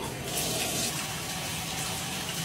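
Shower water pours in a steady, hissing rush in a steamy home bathroom, an unbroken close spray with no voices over it.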